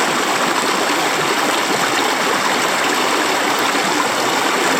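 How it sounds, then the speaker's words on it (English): A bush stream in north-east Tasmania runs in a steady, close, full rushing wash of water that stays even and loud throughout with no talking. "Just me and the birds and the running water."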